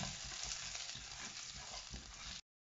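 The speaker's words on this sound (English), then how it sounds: "As the mustard seeds start cracking, I will add ginger to it, garlic, and cook them till they get a little bit golden brown." Ginger and garlic fry in hot oil with cracking mustard seeds, a steady close sizzle with small crackles running evenly for a couple of seconds before cutting off.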